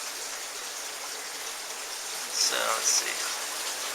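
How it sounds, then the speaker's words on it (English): Water trickling and splashing steadily down from upper aquarium tanks into middle and lower tanks through small control valves in an indoor fish and aquaponics room, a constant near hiss with someone speaking briefly over it. "little valves that I can control how much water is going from the top tanks, which goes down to the middle tanks"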